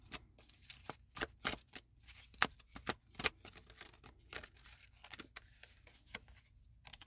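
An oracle deck of cards is shuffled by hand in a quiet room, giving a run of crisp riffling bursts and soft card flicks in uneven clusters, close and clear, with no voices.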